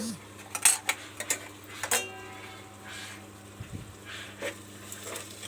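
Metal spoon clinking against a pot while garam masala is stirred into a fish curry, a few sharp scrapes and taps early on, then quieter mixing; soft close-up kitchen sounds with no talk.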